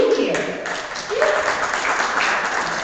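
Audience at a Sunday spiritual center service applauding to welcome newcomers, a dense sustained round of clapping with a voice speaking briefly over it.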